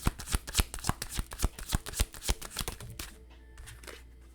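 Tarot cards are shuffled by hand in a quick, rhythmic series of close, crisp riffling flutters, then the sound tapers off into quiet.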